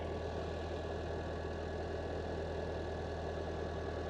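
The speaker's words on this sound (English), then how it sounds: "Nice tractor, classic." A steady, continuous tractor engine idle rumbles throughout, low and even with no change in pace, close by and running alone without voices.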